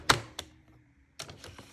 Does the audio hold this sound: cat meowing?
no